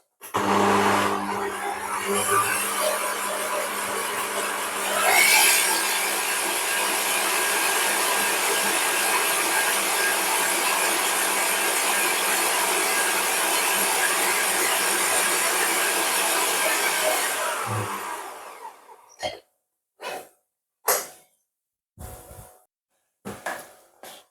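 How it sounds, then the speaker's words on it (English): An electric mixer softening a no-bake chocolate cheesecake mixture with vanilla, a loud steady whir running continuously for most of the clip, then stopping and giving way to a few short knocks and scrapes. "At this point, I'm just going to soften this up in the mixer."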